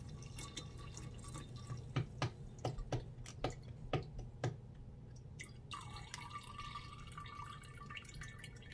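A very hot crystal-growing solution is poured into a big glass vase: a run of distinct drips and taps, then a continuous trickling pour, all faint and close.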